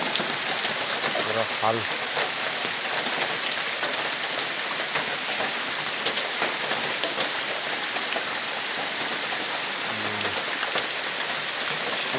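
Heavy rain pours down steadily in a constant dense hiss of drops hitting surfaces, with someone speaking briefly a couple of times.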